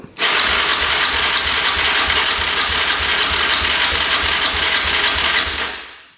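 A Yamaha Raptor 660 quad engine with the throttle held open, turned over in a steady rapid chugging rhythm for about five seconds, loud and close, then winding down to silence.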